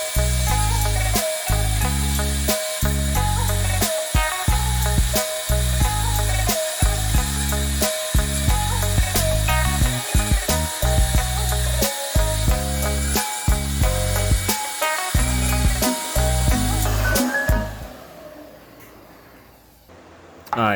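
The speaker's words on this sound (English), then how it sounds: "I bondoed the dents and now I'm just sanding them down." Power sanding Bondo body filler on a car body, a loud continuous whirring grind with brief pauses, ending as the tool winds down.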